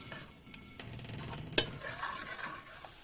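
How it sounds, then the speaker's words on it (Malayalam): Cooked lentils with tomato and green chili being mashed in a pot: soft stirring and squelching scrapes with one sharper clink of utensil against metal, close and fairly quiet, no voices. "തക്കാളിയും പച്ചമുളകും പരിപ്പൊക്കെ നല്ലപോലെ വെന്ത് വന്നിട്ടുണ്ട് നല്ലപോലെ നമുക്കിത് വെച്ച് ഉടച്ചെടുക്കാം"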